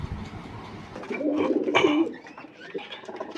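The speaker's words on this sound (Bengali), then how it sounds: "হ্যাঁ এই হলো আমার এই যে পায়রার সেট আপ" Pigeons in a backyard pigeon setup give a low, rolling coo that swells in the middle and fades, with faint rustling and other birds calling around it.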